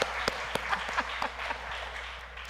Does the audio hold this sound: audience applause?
yes